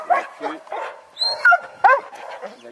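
A young herding dog barks in short, sharp bursts, a few close yips and barks mixed with a person talking nearby.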